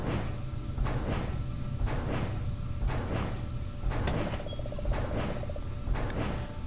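A door in the Goosebumps video game creaks and scrapes through a series of rhythmic mechanical strokes over a steady background hum, fairly loud and close, with no talking.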